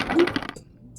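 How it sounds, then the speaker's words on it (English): Dice are tossed onto a table during a tarot reading, giving a quick burst of hard clattering taps that tumble for about half a second and then stop. "I'm gonna roll the dice real quick, get some signs."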